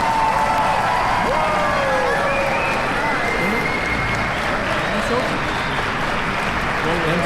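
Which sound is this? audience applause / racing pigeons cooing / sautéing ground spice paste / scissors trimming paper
audience applause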